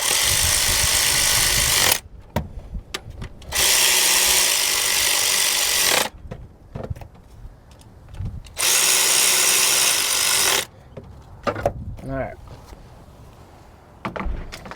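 A power tool drives bolts on the spark plug coils of a Toyota Highlander, sounding in three loud, sustained whirring bursts separated by quieter clicks and handling noises.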